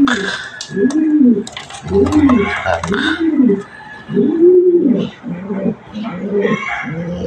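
Pigeons cooing in a loft of mostly cock birds, repeated close, rhythmic coos rising and falling one after another, with occasional wing flaps and chirps in the background.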